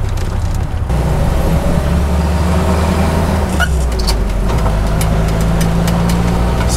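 A 1949 Jeep Willys CJ-3A driving with a steady, loud engine drone, while small loose metal pieces tap and rattle against the frame in scattered sharp clicks over the running motor.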